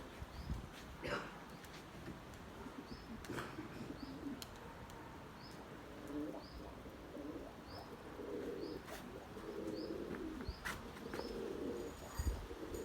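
Pigeons in a coop give soft, repeated coos, with small chirps and occasional knocks and rustles close by against a steady low background.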